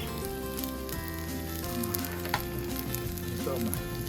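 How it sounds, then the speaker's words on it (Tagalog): An egg frying in extra virgin olive oil in a pan, a steady bright sizzle and crackle filling the whole stretch, close and even, with no talking. "We cook the egg in the middle."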